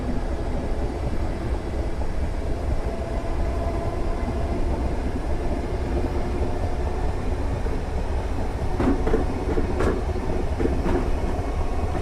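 Simulated Network SE commuter train running into London Victoria in Train Sim World 2019, a steady loud rolling rumble of wheels and motors throughout, with a few faint rail clicks near the end.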